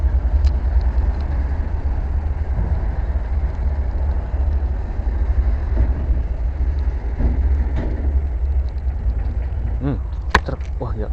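A truck drives past beside an overgrown fishing spot with a loud, steady engine rumble that lasts the full eleven seconds. Faint clicks and brief voices come near the end.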